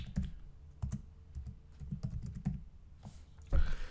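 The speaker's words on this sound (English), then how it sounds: "So I typed the 27 word recovery phrase." A computer keyboard clatters with irregular, fairly soft keystrokes, close by and without voices, ending in a louder clack.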